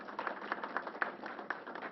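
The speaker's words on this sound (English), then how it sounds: "Let's give her a round of applause" Audience applause for the borough president at a COVID briefing, a steady patter of many hands clapping at moderate distance with no voices over it.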